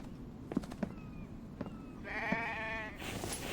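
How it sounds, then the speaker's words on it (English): A sheep bleats in a video game, a wavering, nasal cry rising after a few soft footsteps and clicks, moderately loud over a quiet background. "There's a sheep."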